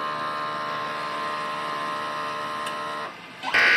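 A DTF printer runs its head clean cycle, a steady loud mechanical hum with tonal whine that drops off briefly near the end before a louder rushing burst resumes.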